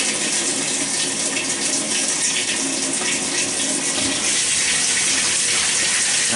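Washing machine filling with water through its inlet valves, a loud, steady rushing gush of water pouring into the drum, continuous and close throughout with no talking.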